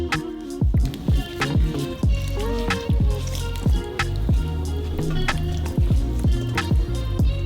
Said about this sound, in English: Mix it well. Make sure each piece is covered with the marinade.